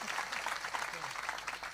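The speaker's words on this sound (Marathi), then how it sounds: "एकदा टाळी वाजवा आमच्यासाठी." An audience at a Marathi kirtan gathering claps together in a dense, continuous round of applause, with voices mixed faintly underneath.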